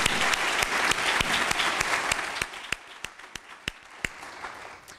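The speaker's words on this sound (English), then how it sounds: "let's give the regents and the executive officers a round of applause" Applause from an audience for regents and executive officers begins as a full burst of clapping and thins out into scattered, individual loud claps as it fades.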